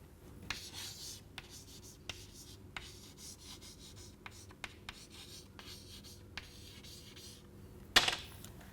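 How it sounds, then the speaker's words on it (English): Handwriting on a board or paper with a steady scratching stroke, broken by a few sharp taps as the writing tool lands, close and quiet with no talking. "I will have to write it for you."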